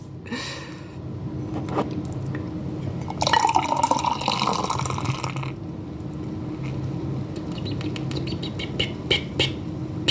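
Liquid drips from a plate of chicken fried rice while someone eats: scattered small drips and wet ticks, close and fairly quiet, with a brief louder splashy stretch partway through.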